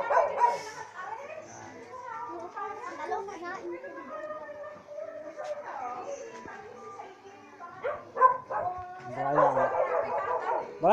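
A dog barks and whimpers in a string of yips and whines, mixed with voices talking nearby. The sound is fairly close and continuous for about eleven seconds.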